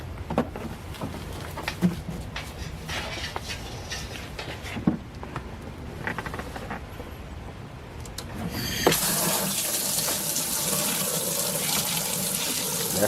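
An electric water pump pumping rainwater to a machine: steady rushing, splashing water with a continuous hiss that swells much louder and broader after about nine seconds, close by, with no talking.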